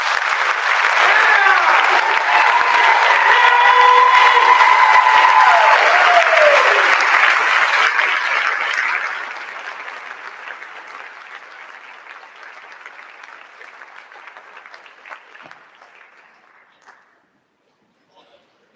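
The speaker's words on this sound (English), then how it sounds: "So let's give Jerry a round of applause" Audience applause for a retiring staff member at a school staff end-of-year celebration: loud, dense clapping fills the room for about nine seconds, then thins into scattered lighter clapping and fades out.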